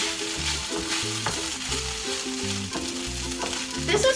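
Rice tossed with ketchup frying in a pan sizzles steadily up close, with repeated rhythmic stirring and scraping sounds and soft tonal clinks over the constant hiss.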